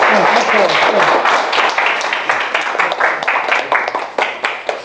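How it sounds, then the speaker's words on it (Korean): Small audience at a presentation clapping, a burst of dense applause that breaks into scattered individual claps as it fades, with some voices underneath. "예, 박수 한번 쳐주세요."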